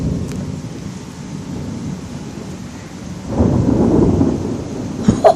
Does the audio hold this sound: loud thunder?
yes